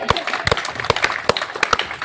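Scattered hand claps from a small group of children gathered at a swimming event at a club and resort, sharp irregular claps close by over a low murmur.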